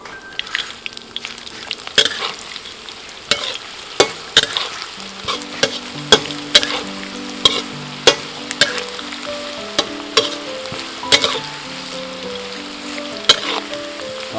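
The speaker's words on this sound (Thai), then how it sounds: "ทีนี้เราก็จะนำปลาแก้วที่เราเตรียมไว้นะครับ ลงไปทอด" Glass fish fry in hot oil with herbs and kaffir lime leaves in a 100-gram batch, giving a steady close sizzle broken by regular clinking stirs of a utensil against the pan.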